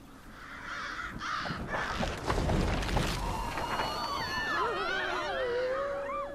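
Crows caw loudly in Tearaway Unfolded, a flurry of harsh calls rising over a busy game soundscape, several birds close by with one drawn-out caw toward the end.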